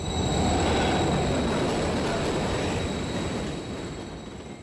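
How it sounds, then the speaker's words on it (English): A train rumbles past in Call of Duty: Modern Warfare 3, a loud, steady roar of rolling rail cars with a faint metallic wheel whine, fading slightly toward the end. "Another train coming."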